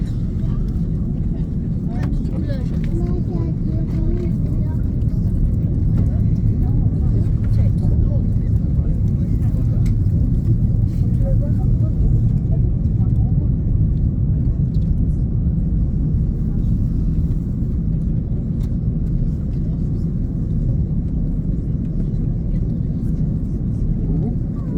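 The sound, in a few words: Corsair airliner taking off from Orly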